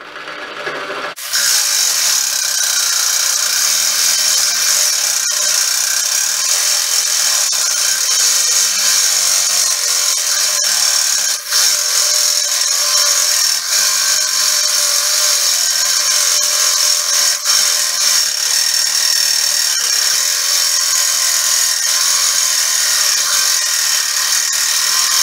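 GINOUR jigsaw with an oiled blade at speed 1 starts abruptly and then saws continuously with a loud, steady buzzing rasp that holds unbroken to the end.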